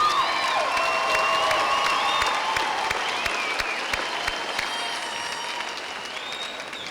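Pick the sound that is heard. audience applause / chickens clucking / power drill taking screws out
audience applause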